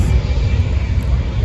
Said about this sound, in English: Yes, we're still at the airport, so you guys can probably hear the airplanes in the background